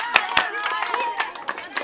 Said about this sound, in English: Wow, big clap.